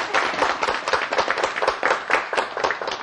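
Students in a classroom clap during a math lesson, a dense, steady patter of many hands lasting the whole moment, close and lively with no talk over it.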